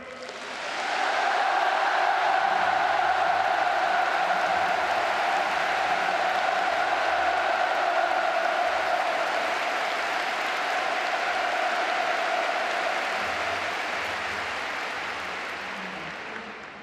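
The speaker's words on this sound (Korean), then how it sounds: "우리 모두 문재인 대통령에게 열광적인 박수와 열렬한 환호를 보내줍시다." A large crowd applauds at length in the Rungrado May Day Stadium in Pyongyang, a broad sustained roar of clapping and cheering that swells quickly, holds steady and slowly fades toward the end.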